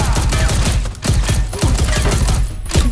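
Loud automatic gunfire from the action film Dhaakad's trailer rattles in dense, rapid bursts over a heavy, booming score, with barely a pause between volleys.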